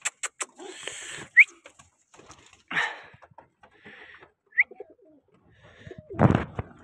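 Pigeons in a loft give a few soft coos and short calls, with scattered rustles, taps and gaps of near silence between them.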